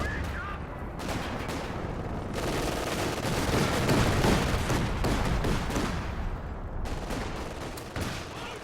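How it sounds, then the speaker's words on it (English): A sniper rifle fires during a video game battle, set within a loud, dense wash of continuous gunfire and rumbling blasts that barely lets up before fading slightly near the end. "Oh, sniper opens up."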